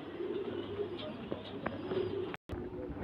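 Soft, low pigeon cooing from a Kamagar pigeon repeats steadily nearby over faint background hum, with a brief dropout near the end.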